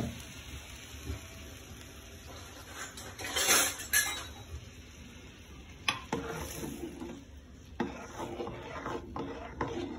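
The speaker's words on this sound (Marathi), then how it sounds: "आता ही चटणी याच्यामध्ये ऍड करायची आपल्याला आणि चमच्याने फिरून घ्यायचं।" A spoon stirs freshly made chutney for idli and dosa in a pot, scraping and clinking against the metal in bursts over about ten seconds, close by, with a faint sizzle underneath and no talking.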